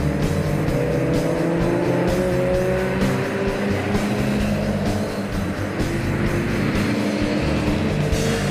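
A Jaguar E-Type race car drives at speed on a drying circuit during a historic GT race. Its engine roars steadily throughout with a strong harmonic whine, mixed with tire noise and other race car sounds.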